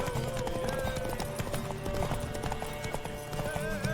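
A horse's hooves clip-clop rapidly and steadily throughout the scene in The Witcher 3, blended with dense game ambience and background voices.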